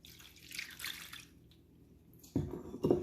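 Milk, about a cup, pours into a rice pudding mixture as a soft, close liquid trickle, followed by a couple of louder splashing glugs.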